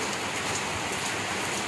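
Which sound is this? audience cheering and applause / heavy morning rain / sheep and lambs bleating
heavy morning rain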